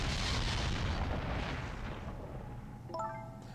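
A loud explosion in the video game Ghost Trick: a broad roaring blast that slowly rumbles and fades, followed by a brief bright chiming effect near the end, with no speech.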